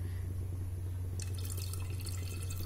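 Water poured into a cooking pot on a home gas stove, a steady close splashing and trickling that starts partway through and continues alone to the end.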